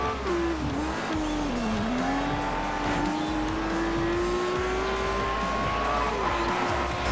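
A car in the racing video game Forza Horizon, driven from the cockpit view at high speed in pouring rain: a loud, steady engine drone that rises and falls in pitch with gear changes, with tire noise throughout.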